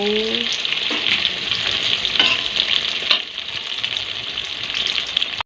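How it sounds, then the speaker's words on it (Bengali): Eggplant pieces fry in hot oil in a pan with a steady, close sizzle and crackle, plus a few light scrapes and clinks from stirring. No one speaks. "বেগুনগুলো এখন ভেজে নেব"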